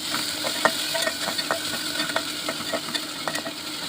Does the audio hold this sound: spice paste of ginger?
yes